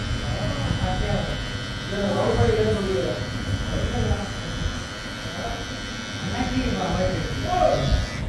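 An electric hair trimmer buzzes steadily while cutting hair during a haircut, a close mains-like hum running throughout beneath someone talking.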